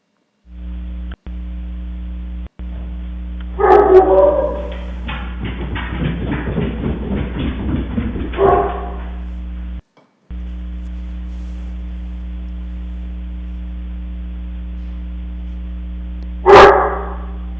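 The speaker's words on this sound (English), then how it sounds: "you can see that picked up one of my dogs barking at whatever" Dogs barking, picked up by a Samsung SmartCam HD Pro SNH-6410BN security camera: a few loud barks followed by a short burst of quieter yapping, then one more bark near the end, over a steady electrical hum.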